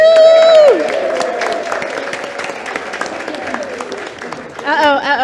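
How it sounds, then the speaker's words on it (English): Applause and cheering from a church gathering's audience, greeting the executive chef before a meal; dense clapping with a whoop at the start and talk running through it, swelling again at the end. "if you want to give him a round of applause"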